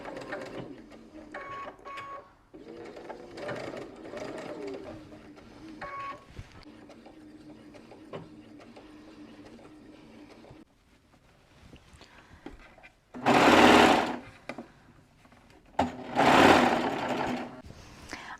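Sewing machine stitching down an elastic casing on a child's dress, a steady rattling run that stops and restarts in short bursts, followed by louder rustling of fabric near the end.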